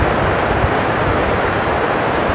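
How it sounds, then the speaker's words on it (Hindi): Loud, steady rush of fast-flowing water in the Indira Gandhi canal as it surges beneath a bridge, a continuous broadband roar with no pauses, ending with a brief cutoff. "अब आप इस पानी की आवाज सुनो"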